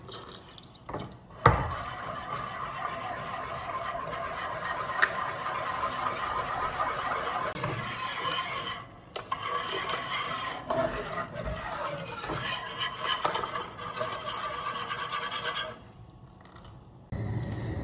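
Milk is gradually stirred into an egg and flour mixture for custard in a bowl, a continuous wet swishing and scraping with occasional clinks of utensil on the dish, close and steady throughout.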